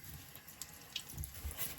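Warm water runs from a tap into a sink, a steady close splashing flow with a few small drips and gurgles and no voices.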